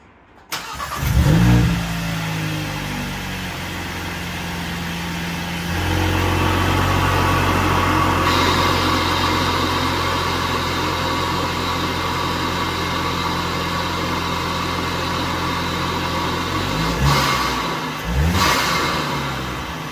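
A VW Mk8 fitted with a Unitronic forged carbon intake cranks and fires up, settles into a steady idle, then gets revved, rising and falling in loud close bursts near the end.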